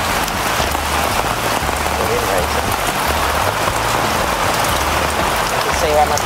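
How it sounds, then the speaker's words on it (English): Heavy rain pours steadily at an off-grid ambulance conversion camp, a dense, continuous hiss of drops drumming on surfaces with no letup, loud and close throughout. "You can see how much rain."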